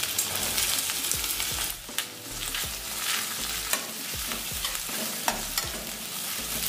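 Chopped onion sizzles steadily in mustard oil with crushed garlic and ginger for a red lentil tadka, a loud, close frying hiss broken by repeated scrapes and knocks of a spoon stirring in the pan.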